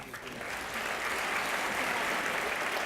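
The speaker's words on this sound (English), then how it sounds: "Let's give all of these graduates one more round of applause" An audience applauds graduating seniors at a 2019 Waco ISD academic achievers ceremony, with a full, sustained round of clapping that stays steady and fairly loud throughout.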